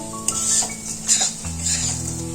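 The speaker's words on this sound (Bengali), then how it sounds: "আলুর সাথে মুগের ডাল ভালো করে ভাজা হয়ে গেল" Moong dal and potato pieces fry in a pot as a spoon scrapes and clinks against the metal, bright rattling stirs over a soft sizzle, close and without speech.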